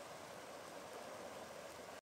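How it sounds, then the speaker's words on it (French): A river flows steadily nearby in a continuous, faint broadband rush of water, alone with no voices. "C'est la rivière qui nous parle."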